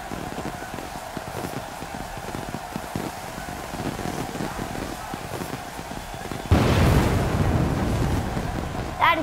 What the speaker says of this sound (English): Fire and sparks both at the same time